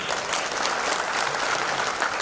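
An audience at a meeting in Banaras applauds with dense, continuous clapping that holds at an even level throughout.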